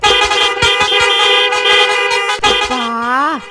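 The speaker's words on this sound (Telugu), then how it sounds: "ఒక పోలీస్ సారు హారన్ కొట్టుకుంటా బైక్ నడిపిండు" A police motorbike horn honks in a rapid series of short blasts followed by a longer, falling toot. The honks are loud and close, with street noise underneath.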